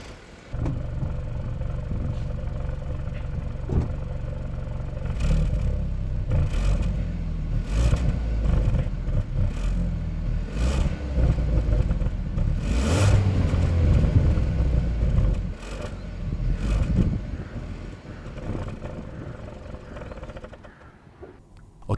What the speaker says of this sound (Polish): ten wydech, o bardzo ładnym swoją drogą kształcie, coś tam stara się warczeć